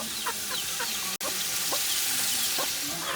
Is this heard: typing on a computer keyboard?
no